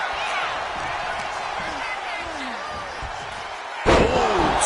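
A wrestler is slammed down hard on the mat in the WWE 2K 26 video game, a sharp heavy impact near the end that rises over steady arena crowd noise, with commentary talking throughout.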